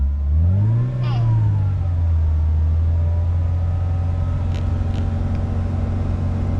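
A manual car's engine is revved up to about 2000 rpm during a driving lesson, rising in pitch then settling into a steady, loud mid-range hum that holds close and continuous.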